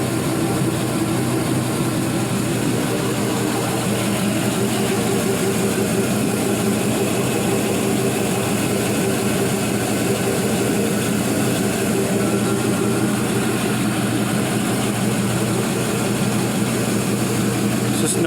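A 4.8-liter LS V8 engine package runs steadily with all accessories attached, a continuous loud low rumble and even hum that holds without change for the full stretch, with no other sounds standing out.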